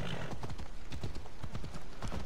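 A horse gallops in the video game Assassin's Creed Odyssey, its hooves drumming in a rapid, steady clip-clop rhythm amid dense noisy background, fairly faint overall.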